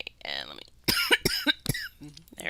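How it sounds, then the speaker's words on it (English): A few sharp, close coughs break out between bursts of nearby speech during a live stream, short harsh blasts separated by brief pauses. "there's the cough again."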